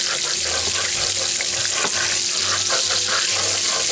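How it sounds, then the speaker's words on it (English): Butter sizzling in a pan with a steady broadband hiss, while the pan bottom is scraped in a series of short, repeated strokes, close and fairly loud. "I'm just going to scrape the bottom of the pan while I spread the butter around"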